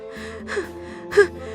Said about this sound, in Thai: เจ้าจ็อกก็เริ่มหอบแหกๆ